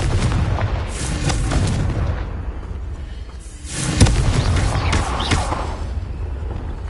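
A Confringo blasting spell is cast in Hogwarts Legacy, giving a rumbling, booming explosion with a sharp crack partway through and heavy sustained roar around it.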